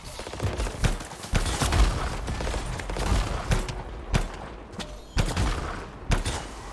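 Rapid gunfire rattles through a fight in the Anthem video game, with bursts of shots and sharp impacts dense across the whole stretch, loud and close, no talk.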